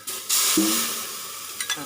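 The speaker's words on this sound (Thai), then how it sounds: "จะเอาหัวกะทิลงไปเคี่ยวนะคะ ให้เขาแตกมันนะคะ เนี่ยเขากำลังเดือดปุดๆแล้วนะคะ" Thick coconut cream simmering in a hot pot on the stove, reducing until its oil separates, gives a steady soft sizzle and hiss with a brief stir or bubble pop partway through, close and alone.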